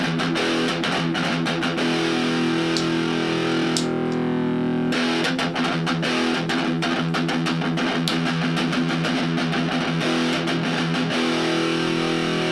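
Electric guitar played through a Lekato AG04 portable amp with TS9-style overdrive set to tone near 60%, volume full and drive low; a steady stream of loud, dense, sustained distorted chords and notes, with a brief drop partway through.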